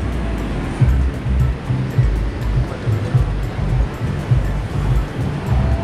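Ocean waves surge and wash steadily at El Tunco beach in El Salvador, a loud, continuous roar of surf with no voices.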